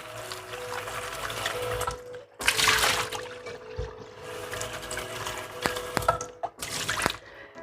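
Water runs and splashes as food is rinsed before cooking, with trickling, pouring and dripping in uneven bursts, louder surges in the middle and toward the end, close by and without talk.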